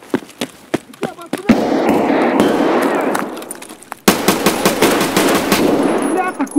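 Machine gun fire in Escape From Tarkov, with single sharp shots first, then long sustained bursts of rapid automatic fire, loud and close, with talk over parts of it.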